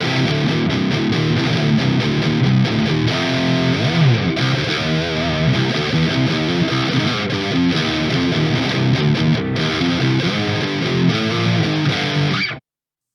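An electric guitar riff played through a Harley Benton DNAfx GiT effects unit, loud and distorted with choppy, rhythmic chords and runs, continuous until it cuts off abruptly at the end.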